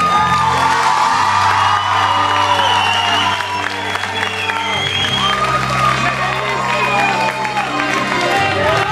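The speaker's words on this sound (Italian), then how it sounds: "un applauso per voi" At a school event, an audience applauds and cheers loudly, with whoops and shouting voices over dense clapping, plus a low sustained tone beneath the crowd noise.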